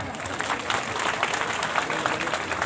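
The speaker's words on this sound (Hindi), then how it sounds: "तो उनके स्वागत में जोरदार तालियां बजाकर स्वागत करें।" A crowd claps at a Bahujan Samaj Party political gathering in Agra, a dense, continuous patter of hands lasting a couple of seconds with no talk over it.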